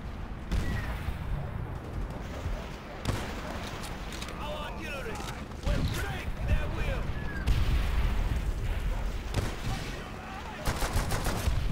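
Gunfire and artillery from the video game Call of Duty: World at War, with repeated sharp shots and booms over a steady loud battle din, mixed with voices.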